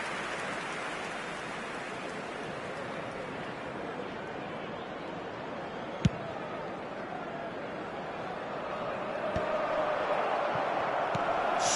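A steady wash of crowd applause fills a large stadium in a PS4 football video game, hissing like rain, with a brief sharp thud midway and swelling slightly toward the end.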